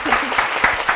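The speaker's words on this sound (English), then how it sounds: "Let's give her a big round of applause." Short burst of audience applause after a university last lecture honoring Dr. D'Anne Duncan, dense steady clapping filling the room with a few louder claps standing out.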